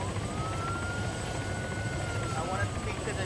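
A helicopter in the Arma Altis Life game drones with a steady rotor rumble and a faint high whine, while voices talk loudly over it throughout.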